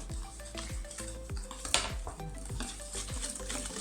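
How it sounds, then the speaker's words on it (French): A whisk stirs eggs in a bowl as milk is poured in slowly for a chocolate flan, producing a steady, rhythmic clinking and swishing of wire against the bowl, close and even, with no voices. "j'utilise mon fouet et je verse doucement, petit à petit"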